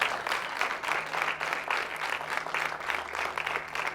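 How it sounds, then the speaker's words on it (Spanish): An audience at a church talk gives sustained applause, with dense, steady clapping from many hands continuing throughout, close and full. "Un fuerte aplauso al Rey."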